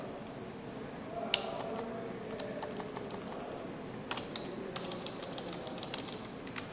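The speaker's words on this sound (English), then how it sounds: "For that you have to type here csc." Keystrokes on a computer keyboard while entering a compile command, a run of quiet clicking taps with a few sharper strikes over a low steady background hum, no voice.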